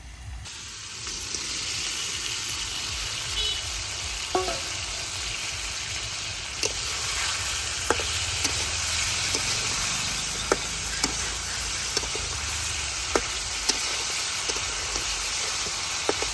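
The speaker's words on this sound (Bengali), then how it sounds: "এখন তেলে দিয়ে দেয় পাঙ্কাশ মাছ" Pangas fish sizzles in hot oil with cooked-down spices, a loud continuous close hiss with scattered sharp pops and crackles throughout.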